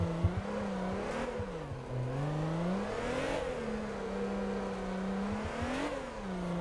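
A MotorTown drift car with a smaller turbo and a long intake runs in boost at low revs. The engine holds a steady droning tone that swoops up and down in repeated rev swells, with whooshing bursts between them, heard alone at moderate volume.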